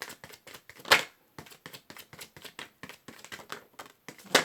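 Tarot cards being shuffled by hand, a run of quick dry riffling taps and flicks in bursts, with a couple of sharper snaps, close and fairly quiet.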